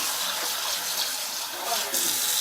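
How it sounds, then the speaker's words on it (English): Water from a tap runs into a pot holding pork and daikon radish, a steady, moderately loud pouring hiss with slight swells and a brief surge near the end. "Our daikon goes right in there, and enough water to cover."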